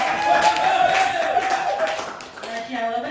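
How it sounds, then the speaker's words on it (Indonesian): Brief clapping from participants at a teachers' training session, moderately loud and mixed with a voice talking over it for a few seconds. "Boleh beri tepuk tangan teman-teman."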